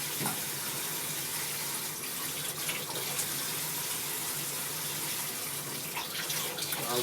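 Tap water streams steadily into a kitchen sink while cherry tomatoes are rinsed under it, a continuous close hiss with faint clatters of handling.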